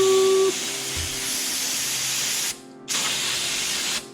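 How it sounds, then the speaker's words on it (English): Aerosol brake cleaner sprayed onto car parts during CV axle work on a B5 Audi S4, a loud steady hiss lasting several seconds with a short pause partway through before spraying resumes. "Brake clean for days, ladies and gentlemen."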